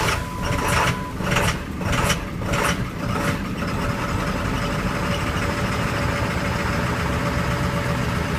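A 2000 Ford F350 ambulance with a 7.3 diesel engine cranks and catches on a very cold day, then settles into a loud, steady, clattering idle heard up close.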